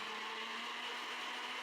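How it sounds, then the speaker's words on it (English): A kitchen blender churns scraped fruit pulp with water, giving a steady, continuous whirring drone that holds at an even level from start to finish with no talking. "I'm gonna put all of this into a blender with some water."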